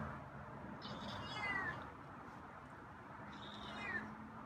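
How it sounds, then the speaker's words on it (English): A feral cat meows twice, each call drawn out and falling in pitch, moderately near against a quiet outdoor hum, with a pause of about two seconds between calls. "Saw you meow through the door."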